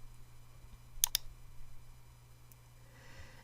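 A computer mouse button gives two quick, crisp clicks close together, quiet against a low steady hum.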